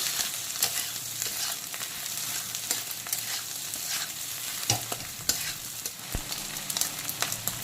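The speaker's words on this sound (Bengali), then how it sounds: "এখন লবণ আর হলুদটাকে সব কিছুর সঙ্গে আবারও খুব ভালো করে মিক্স করে নেব।" Pumpkin and fish roe chutney with salt and turmeric being stirred in a pan, a steady close scrape of the utensil over a soft sizzle, with sharper knocks now and then and no talking.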